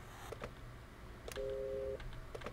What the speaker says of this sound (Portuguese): Ah, esse é o telefone que não fala nada.